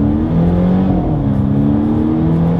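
2022 Volvo S60 sedan accelerating hard in dynamic driving mode, heard from inside the cabin as a loud, steady engine drone rising gradually in pitch over a few seconds.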